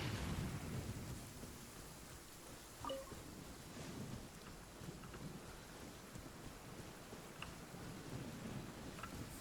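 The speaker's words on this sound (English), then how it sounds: "Let us find shelter from the rain." Rain and thunder from a stormy scene in the video game Genshin Impact: a steady, moderate rain hiss runs throughout, with a low thunder rumble underneath and a brief louder crack near the third second.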